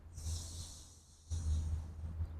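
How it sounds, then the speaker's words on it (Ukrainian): Slow, audible yoga breathing on an outdoor terrace: a long, airy inhale, a brief pause, then another full breath, close and soft with no talking. "Вдих, видих, вдих, видих, вдих"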